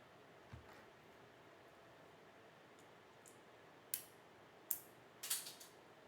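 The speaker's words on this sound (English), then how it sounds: "I'm gonna put the screws back in." Small screws driven back into a device during a modding job: faint scattered clicks and mechanical ticks, with a few sharper clicks near the end over quiet background hiss.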